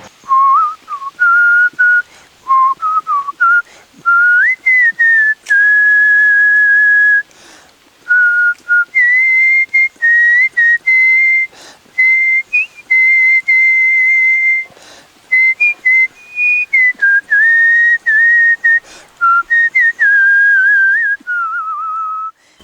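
A man from Orcha, Kasaragod, whistles a song melody, with clear sustained tuneful lines and short breaks between phrases. The sound is loud, close and alone, with no talk.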